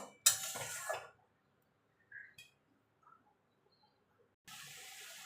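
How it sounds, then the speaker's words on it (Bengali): Water from a freshly rinsed mixer jar is poured into a pan of vegetarian okra curry: a close, roughly one-second splash, then near silence with small clinks, before a steady watery hiss returns at the end. "দেখুন মিক্সির জারটা ধুয়ে জলটা দিয়ে দেবো"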